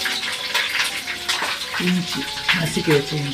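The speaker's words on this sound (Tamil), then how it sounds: "கடுகு ஜீரகம் நல்லா பொரிஞ்சிச்சு" Mustard seeds and cumin splutter in hot oil with a close, crackling sizzle and scattered pops, while a voice murmurs briefly over the frying.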